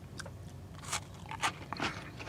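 Several crisp crunches of someone biting into a Chips Ahoy chocolate chip cookie and chewing it, close up and quiet between bites.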